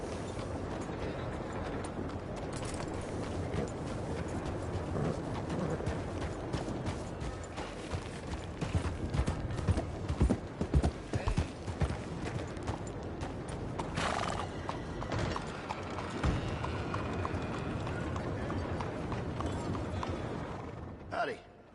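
Horse hooves clip-clop and a horse whinnies in a video game on PS4, steady through the stretch beneath game music and ambience, while a voice speaks over part of it.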